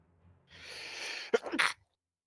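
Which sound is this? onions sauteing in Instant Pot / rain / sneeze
sneeze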